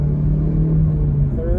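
A 2014 Ford Focus with a five-speed manual gearbox hums at steady engine speed with a low, even drone, heard from inside the car while a person talks over it.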